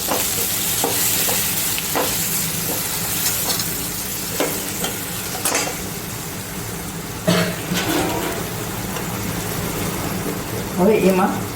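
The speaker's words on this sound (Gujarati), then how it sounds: "હવે આપણે કાંદા નાખીશું. ધીમો ગેસ રાખીશું." Chopped onions frying in a pan over a low gas flame, a steady sizzle with intermittent scraping and clatter from stirring and a brief cough in the room.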